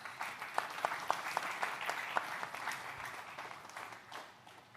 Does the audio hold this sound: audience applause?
yes